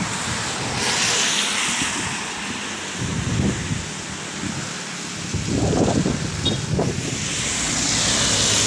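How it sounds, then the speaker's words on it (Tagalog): Strong typhoon wind in Pasay roars and buffets the microphone in heavy surges, rising and falling throughout with no one speaking. "hindi siya malakas, pero yung hangin malakas talaga"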